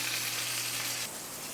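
A coffee-rubbed pork tenderloin sears in a hot pan with a loud, steady sizzling hiss and a low hum underneath, close up and continuous with no talking.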